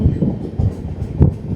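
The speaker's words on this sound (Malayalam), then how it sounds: "നമ്മളെ ട്രെയിൻ ഇതാ അടുത്ത സ്റ്റേഷൻ പയ്യന്നൂരോട്ട്" Passenger express train approaching Payyanur station, rolling with rhythmic rumbling clatter of wheels from inside the carriage, a faint voice at times beneath it.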